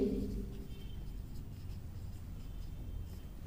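Marker or chalk writing on a board during a Hindi-language grammar lesson, a steady scratchy stroke sound running for a few seconds, fairly close and alone with no voice over it.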